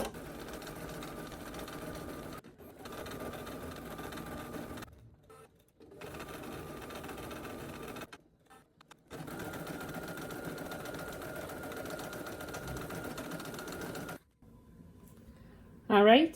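An embroidery machine stitches vertical lines and the word sewing in a rapid, steady mechanical chatter that runs in long stretches and stops briefly several times.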